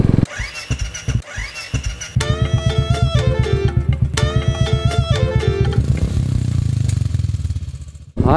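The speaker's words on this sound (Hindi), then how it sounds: "हम लोग जा रहे हैं थोड़ा सा इंजन ब्रेकिंग करने के लिए नियर के बुलेट का" Royal Enfield Bullet motorcycle thumping loudly up close as it is ridden, its single-cylinder engine firing in a steady rapid beat with revs rising and falling through engine braking, ending in a brief cut-off.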